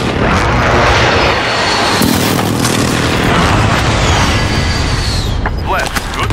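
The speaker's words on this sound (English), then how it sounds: "Allied cluster bomb is coming." Allied cluster bomb airstrike in the video game Warzone, a loud dense rumble of overlapping blasts rolling continuously for several seconds before cutting off, with a short burst of voice near the end.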